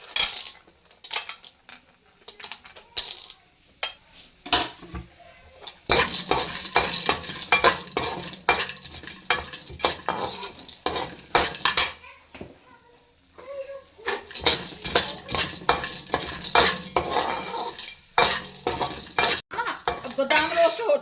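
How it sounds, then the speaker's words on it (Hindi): A metal spoon scrapes and clatters steadily against a pan as almonds and pistachios are stirred while dry-roasting, a faint sizzle running underneath the busy, close-up clinking. "बादाम रोस्ट करेंगे। बादाम और पिस्ता दोनों चीजों को कर लेंगे।"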